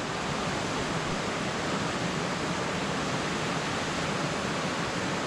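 Broadband rushing water from a waterfall beside a riverside coffee spot, heard close and loud as an unbroken roar for several seconds with no voices.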